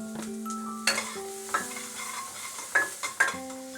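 Vegetables for chicken soup, seasoned with black pepper and salt, fry in a pan while a utensil stirs them. Soft sizzling sits under several sharp scraping clinks of the spoon, with light music behind.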